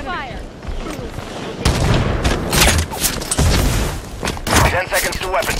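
A Halo 5 multiplayer firefight fills the air with rapid bursts of gunfire and heavy thumping blasts, loud and close, shots overlapping irregularly while a voice talks over the combat.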